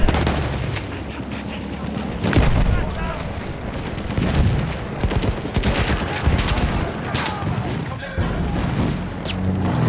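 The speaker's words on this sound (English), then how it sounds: "I kept having airburst mortars pop over my head" Airburst mortar shells bursting in Battlefield 1, a chaotic barrage of booming blasts and crackling gunfire over nearly ten seconds, loud and close, with voices mixed in.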